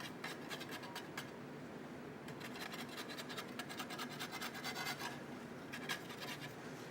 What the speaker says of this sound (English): If you scrape that way, it breaks the side off.